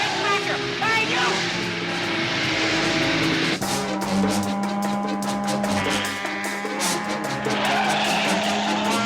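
A stolen car in a 1982 action TV scene speeds off with loud, sustained tire squeals and skidding over a revving engine. A sharp change midway shifts the pitch, and voices are present.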